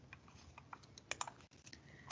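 Keys on a computer keyboard are struck in short, quick bursts of clicks as a disease name is entered in a search field. The tapping is faint and close, with no talking.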